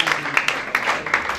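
Scattered audience clapping at a cover band gathering, a handful of sharp, uneven claps standing out close by over a low murmur of voices.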